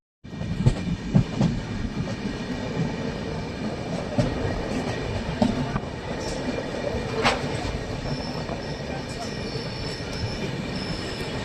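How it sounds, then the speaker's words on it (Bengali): A train pulls into Parasnath station, its wheels squealing and clattering steadily on the rails, with carriage rumble throughout and a few faint voices. "এখন আমাদের ট্রেন যেটা আমাদের ঠিক টাইমে পৌঁছে দিয়েছে"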